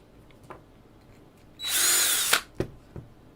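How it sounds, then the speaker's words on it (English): A power drill whirs in one loud, steady burst of under a second while drilling out holes, followed by a few sharp clicks and taps of handling nearby. "let's drill these out"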